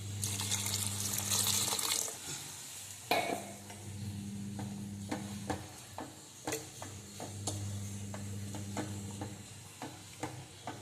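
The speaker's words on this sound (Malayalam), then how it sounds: "വെള്ളം ഒഴിക്കല്" Water splashes into a hot pan for fish curry, hissing and sizzling in soft bursts amid faint stirring clinks.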